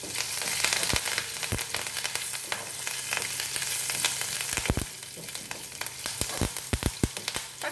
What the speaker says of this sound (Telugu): ఇప్పుడు ఈ పోపు మనం అందరూ తిరగపోసుకుందాం.